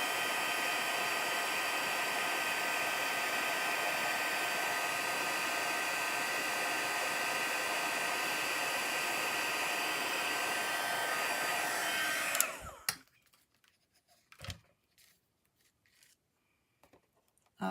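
A heat tool blows a loud, steady hiss while melting embossing powder for about twelve seconds, then cuts off, leaving a few faint clicks and taps.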